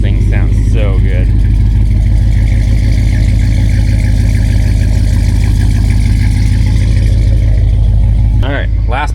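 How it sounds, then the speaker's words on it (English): Supercharged 426 Hemi engine in a Dakota truck running loud and close, a steady heavy rumbling idle with rhythmic pulsing that holds throughout, with a voice speaking briefly near the start and end. "we can fire up the 426 Dakota. Thing sounds so good"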